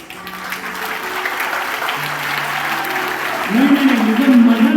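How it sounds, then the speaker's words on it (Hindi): Children at a KV2 school clap together during a road safety education game, a dense, sustained round of applause that swells slightly near the end as an adult voice speaks over it. "KV2 के बच्चे ताली बजा रहे हैं।"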